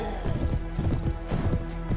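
Cavalry horses in the video game A Clash of Kings, giving a busy, close run of hoof clip-clops in an uneven galloping rhythm, with battle noise underneath.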